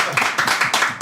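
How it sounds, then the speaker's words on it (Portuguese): Podcast hosts clapping for a guest, a few quick, sharp claps close to the microphone in an even rhythm, lasting only about a second. "Palmas pra ele"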